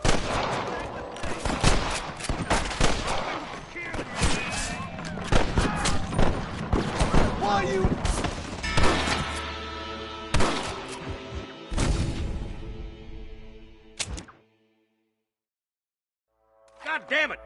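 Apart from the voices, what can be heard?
gunfire in video game Red Dead Redemption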